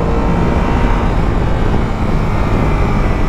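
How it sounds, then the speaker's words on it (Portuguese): Loud, steady engine rumble of a garbage truck on a São Paulo street, a broad continuous drone with no clear pauses across the few seconds. "Caminhão do lixo ali tá na maldade."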